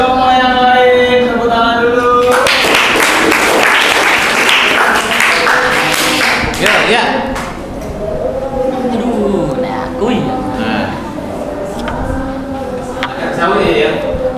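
Applause from a ninth-grade class during a group presentation, a broad burst of clapping that rises suddenly, holds for several seconds and then fades under students talking.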